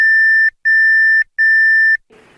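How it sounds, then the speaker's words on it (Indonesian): A computer boots with an error, giving three long, loud, steady beeps separated by short gaps, followed by a faint hiss. "Jika terjadi kesalahan atau error, komputer akan mengeluarkan suara beep."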